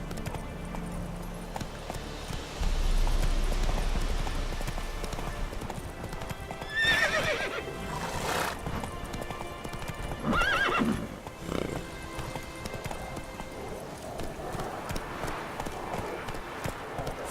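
Hooves of Roach, Geralt's horse in The Witcher 3: Wild Hunt, clip-clop steadily in a running rhythm throughout, with short whinnies and snorts breaking in partway, over a low ambient game backdrop.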